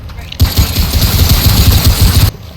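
Rapid gunfire aimed at a tree in the video game Remnant: From the Ashes, a loud, dense burst of shots lasting about two seconds that starts and stops abruptly.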